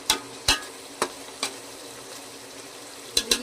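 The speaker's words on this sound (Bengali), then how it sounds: "মাটনের মশলাটা কষানো হচ্ছে, তারপর মাটনটাকে দেব।" Mutton biryani masala sautéed and stirred in a pan at home, with a few sharp scraping clicks of the spoon spaced over a low steady sizzle, close and fairly quiet.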